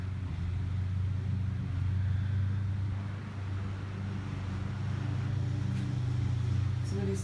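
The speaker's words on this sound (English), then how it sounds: "Somebody's cutting grass." A lawn mower drones steadily in the distance as someone cuts grass, a low continuous engine hum that barely varies.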